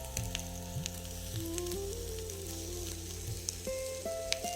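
Shredded bitter gourd (karela) sizzles and fries steadily in a pan, a continuous crackle with a few louder pops, and steady tonal hums run underneath throughout.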